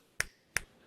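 Two crisp finger snaps, close and dry, spaced about a third of a second apart, with the start of a third at the very end, on a children's programme.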